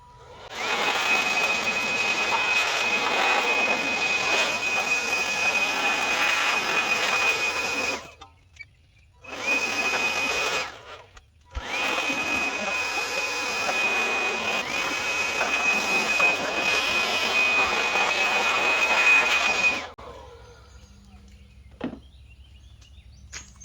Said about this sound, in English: blowing off any leaves that you find in your work area